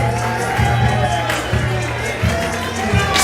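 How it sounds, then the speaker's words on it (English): Friday night playoff baseball crowd in a stadium, a steady roar of many voices with rising swells of cheering and whoops over pulsing walk-up music, all sustained and fairly loud. "Solid Friday night crowd in the playoffs."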